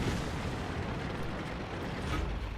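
A tank cannon fires in World of Tanks, a single dull, rumbling blast filling the short clip, with no talk over it.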